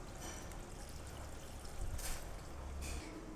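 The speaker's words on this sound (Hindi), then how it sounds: "अब हम इस पर ठंडा पानी डाल देंगे ताकि ये ठंडी हो जाएं" Cold water pours steadily over boiled macaroni sitting in a basket strainer, a continuous soft splashing stream that swells slightly near the end.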